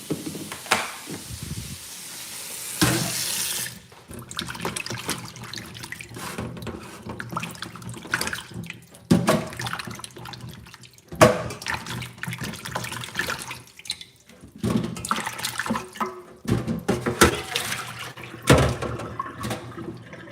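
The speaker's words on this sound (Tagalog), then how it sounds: "Hugasan muna natin kasi galing to sa labas eh." Food being rinsed under a running kitchen tap, a steady splashing stream of water that shifts and gurgles as hands move items beneath it, close and continuous for the whole stretch.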